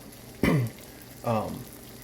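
Over-easy eggs hitting a hot pan, two separate bursts of sizzling, each starting loud and fading, with quieter kitchen background between them.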